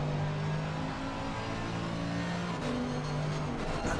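A big AMG race car engine drones steadily in a racing video game at the Paul Ricard circuit, a loud, continuous mechanical tone with slight pitch shifts and no voices.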